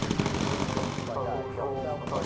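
Rapid turret machine-gun bursts in the bomber game Bomber Crew, clattering under a voice and game sounds.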